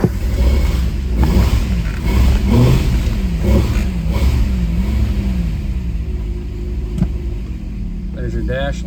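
A 1957 Ford Thunderbird E-bird V8 with a rotisserie restoration revs steadily, its engine note rising and falling in repeated swells, loud and close, with a brief higher whine near the end.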